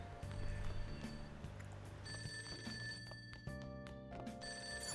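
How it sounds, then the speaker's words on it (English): A landline telephone rings in the video game Persona 5 Royal, a repeated bell-like trill in steady bursts heard over quiet game music, with no talking. "that sounds like a landline"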